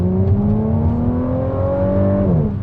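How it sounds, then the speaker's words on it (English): An Audi S4 engine revs hard and loud on throttle, pitch climbing steadily for a couple of seconds before dropping off sharply near the end. "The S4 just sounds incredible on throttle"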